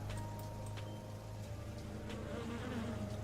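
Bees buzzing in a steady, close droning hum with layered wingbeat tones, continuous and without voices, played as an ambient sound effect.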